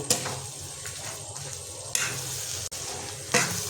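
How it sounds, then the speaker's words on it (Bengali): A ladle stirring sugar into a soybean masala gravy in a kadai, a bubbling simmer with soft sizzle and scraping strokes, a few louder swishes as the ladle moves, close and without talk. "এই চিনিটাকে হাতা সাহায্যে নেড়ে নেব"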